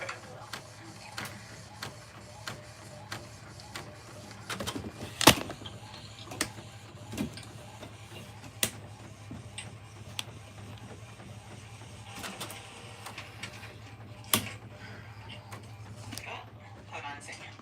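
A CraftPrint printer runs through a print job with steady mechanical whirring, a low continuous hum and scattered sharp clicks and ticks, fairly quiet at moderate distance, with a person talking faintly over part of it.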